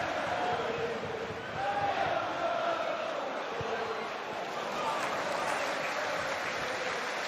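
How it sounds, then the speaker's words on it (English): A football stadium crowd applauds and murmurs throughout a Southampton versus Manchester United match, making a continuous, fairly loud wash of clapping and crowd noise with faint voices on top. "Yeah, crowd appreciating it though."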